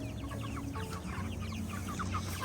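Backyard chickens clucking during early-morning chores, a busy chorus of overlapping clucks and short calls throughout, close and steady, with no talk.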